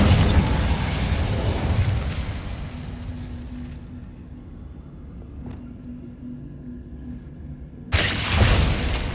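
A fire spell cast in a wizard video game: a whooshing, rumbling blast that fades out over several seconds, followed by a quiet lull, then a second loud burst of flame near the end.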